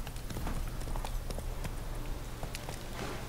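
Steady clip-clop of a horse's hooves in The Witcher 3, a continuous rhythmic trot repeating throughout over a constant low game-ambience hum, fairly close and prominent.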